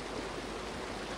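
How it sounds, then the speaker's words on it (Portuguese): Steady broadband rushing of a waterfall in the Lego The Lord of the Rings video game, a constant wash of falling water heard alone and fairly quiet. "olha a queda d'água que tem aqui"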